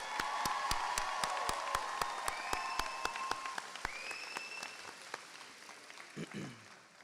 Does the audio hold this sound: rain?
no